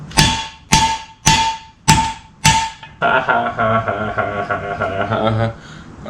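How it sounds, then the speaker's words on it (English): Exhaust slip-on on a 2015-2021 Yamaha R3 hammered into place without a vise: five loud, evenly spaced metallic blows ring close by, then a ringing metallic resonance with a low hum carries on afterward. "When you're pounding, make sure to check before you keep on pounding, because it looks like it's a little bit too tight now"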